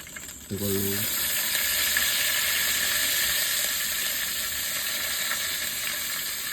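Fennel seeds hit hot oil in a pan, setting off a sudden loud sizzle that settles into a steady, close crackling fry, with a brief voice just before.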